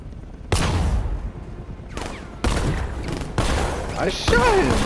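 Gunfire in Batman: Arkham Knight, with several sharp bursts cutting through game background noise and music over about five seconds, loud and close.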